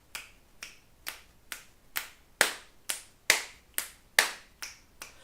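Hands clap about a dozen times in a steady, slightly uneven rhythm, each clap sharp and close with a short ringing tail, no voices.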